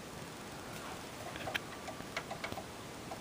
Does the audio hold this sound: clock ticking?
yes